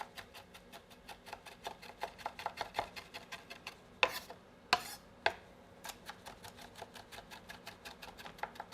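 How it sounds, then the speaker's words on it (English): Large Fresno chili peppers being minced on a cutting board with a knife, a steady run of quick, crisp taps close by, with a few louder chops in the middle and no talking. "I found these rather large Fresno chili peppers. And I need to mince these as well."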